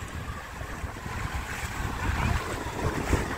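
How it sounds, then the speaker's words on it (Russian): Steady wash of sea waves at Shediac beach, New Brunswick, with wind buffeting the microphone, a continuous low rumble that swells slightly toward the end. "у нас сегодня такая волна"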